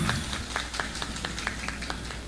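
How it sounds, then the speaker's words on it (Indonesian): Audience clapping at a religious gathering in a musholla for an Isra' Mi'raj thanksgiving event, a sparse, rhythmic run of claps over a low steady hum, fairly close and not very dense. "tepuk tangan untuk An-Nabawi."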